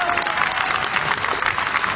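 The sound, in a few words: audience applauding Johann Zarco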